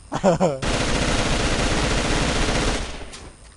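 Assault rifle fire in the shooter game AVA, a continuous rapid burst lasting about two seconds, loud and close, preceded by a brief voice.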